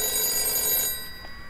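A telephone bell rings in the video game Five Nights at Darl's Remake, one short electronic burst that is loud and close and then cuts off quickly.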